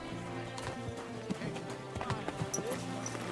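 Hooves clip-clop at a steady trot from a horse in the video game Kingdom Come: Deliverance II, with a faint whinny and low background music, and a voice murmuring briefly in the background.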